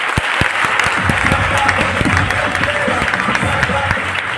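Sustained audience applause for police officers at a Satna gathering, a dense, steady wash of many hands clapping from start to finish, loud and continuous with no speech over it.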